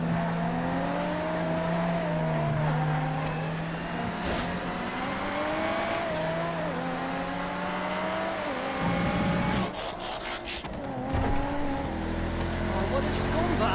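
An arena version of the ZR380 sports car in GTA through FiveM drones and revs steadily with shifting pitch, tire noise and gear changes, under a voice talking throughout.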